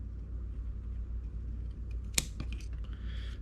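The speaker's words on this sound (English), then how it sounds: "got our scissors underneath the deck, and snipped it off" Scissors snip cotton wick beneath the deck of a Voltrove 35v2 rebuildable vape atomizer, a single sharp close cut followed by a lighter second click over quiet background hum.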